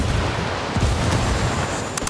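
A grenade blast in a chaotic firefight, heard as a dense, rumbling burst with continuous low booming and crackle throughout, loud and close, with no clear speech over it.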